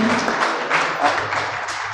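Brief, fairly soft applause rises and falls in a crowd at a university student association inauguration ceremony, with a low hum underneath.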